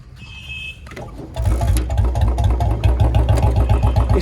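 Royal Enfield Bullet 350 motorcycle on its main stand kicks into life and settles into a steady, loud low thumping idle, preceded by a brief mechanical whir and high whine.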